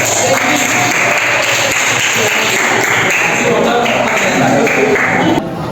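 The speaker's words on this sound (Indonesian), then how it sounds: "Kasih dulu tepuk tangan" Audience applause at a university lecture hall session on Hindu religious education teaching methods, steady dense clapping throughout with voices mixed in, cutting off near the end.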